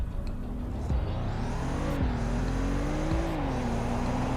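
A fast starter car in the Roblox game Greenville, Wisconsin, a 5-speed automatic, accelerates hard from a standstill to 60 mph, its engine note rising loudly and steadily with brief dips at gear shifts.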